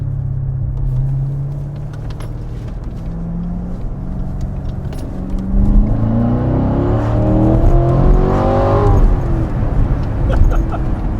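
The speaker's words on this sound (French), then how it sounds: "Les gros moteurs comme ça, c'est brutal." A big V8 engine in a Chevrolet Corvette C7 Stingray hums and rises in a long, rising rev with a deep rumble that builds toward the end, heard close and loud.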